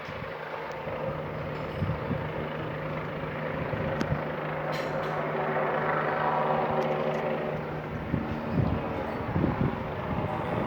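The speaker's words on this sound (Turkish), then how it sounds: "Böyle olduğu yerde askıda duran helikopter" A distant helicopter drones steadily with a low rotor hum, while faint clicks and thumps sit in the foreground.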